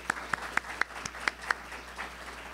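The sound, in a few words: audience applauding the panelists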